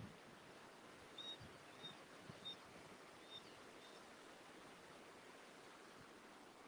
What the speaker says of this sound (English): there is the river. It is normally not this active.